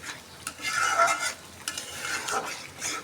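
Roast spice mixture is stirred and fried in a pan, a soft close sizzle with a few brisk scraping strokes of a spoon spaced through three seconds.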